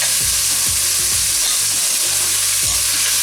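A pot of 1.5 pounds of beef cubes for beef curry sizzles loudly and evenly, with several low thumps and scrapes as the meat is stirred.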